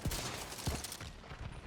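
Sniper rifle fire in the video game The Division 2, heavy muffled shots booming twice about half a second apart over a dense, continuous wash of game noise.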